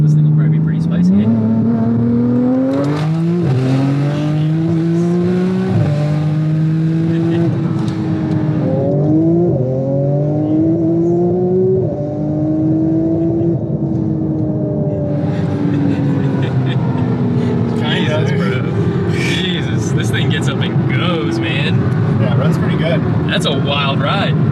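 A 1300-horsepower all-wheel-drive Porsche with 58 mm turbos and a custom compressor wheel pulls hard in second gear. The engine note rises loudly and repeatedly through the full stretch while people talk over it.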